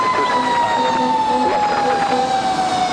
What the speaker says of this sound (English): Fire truck finally making a move.